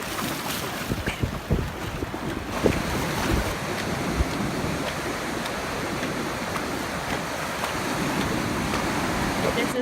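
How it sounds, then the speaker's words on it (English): Ocean waves wash and rumble steadily with heavy wind buffeting the microphone, a continuous loud roar that builds slightly toward the end. "And the ocean."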